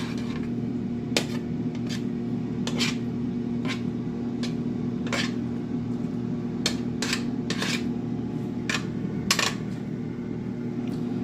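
Food tossed in a Midea double-basket air fryer basket, with scattered metallic clinks and scrapes of utensils over a steady fan hum from the running appliance, close and without talk.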